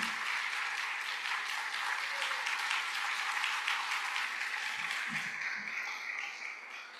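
A crowd gives sustained applause for Lizzie Savetsky: steady, dense clapping holds at an even level before fading slightly at the end.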